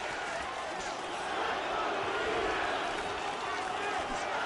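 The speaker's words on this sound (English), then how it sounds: "the chants of Diaz ring through the crowd" A dense arena crowd roars and chants in a UFC 3 video game fight, a continuous loud wash of many voices with no individual words standing out.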